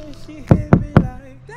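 Three sharp, evenly spaced knocks land on the plastic hull of a Pyranha whitewater kayak, close and loud, with quiet background before and after.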